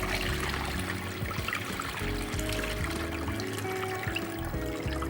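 Starchy rinse water tipped off a bowl of washed sushi rice, a steady trickling pour running continuously and fairly close with no voices over it.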